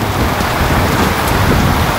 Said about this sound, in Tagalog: Grabe yung lakas ng ulan